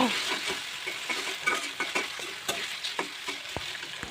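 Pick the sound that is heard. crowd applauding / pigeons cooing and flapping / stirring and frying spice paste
stirring and frying spice paste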